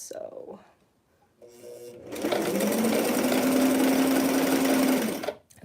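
A sewing machine runs steadily for about three seconds as it stitches a T-shirt seam, loud and close, with a voice talking briefly just before it starts.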